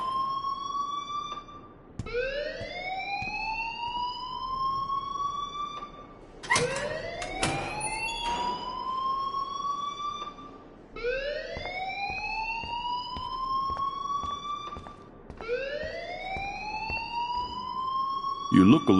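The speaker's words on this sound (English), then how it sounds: "please turn off that alarm since that's your job" Alarm ringing in a video game, a loud rising siren-like wail that repeats in regular cycles of a few seconds, with a brief clatter between two of the cycles.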